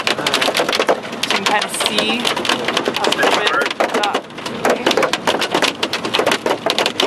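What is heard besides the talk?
hail hitting the car while core punching a supercell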